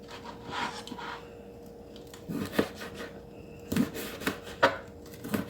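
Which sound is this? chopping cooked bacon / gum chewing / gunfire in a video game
chopping cooked bacon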